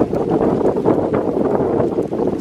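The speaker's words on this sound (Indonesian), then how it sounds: "Nah anginnya gede deh." Steady, roaring wind buffets the microphone throughout at a railway curve in Kalimenur, Kulon Progo, Yogyakarta, a dense continuous rumble with no voices.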